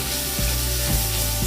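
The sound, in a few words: stirring miso ramen in a pan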